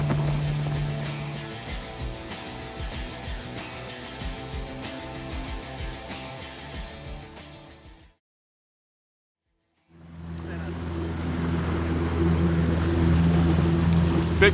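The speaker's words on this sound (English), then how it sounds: "These boats have served us well" A motorboat runs steadily on the Tyone River in Alaska, its engine a constant drone with water rush and wind, cutting out to silence briefly before resuming loud.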